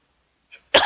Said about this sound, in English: All day I didn't cough until now.